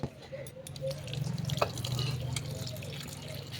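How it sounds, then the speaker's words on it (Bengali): Soaked flour dough washed by hand in water, a steady close wet sloshing and dripping with soft squelches, continuing throughout at low level without speech. "তো জল দিয়ে এভাবে ধুতে হবে"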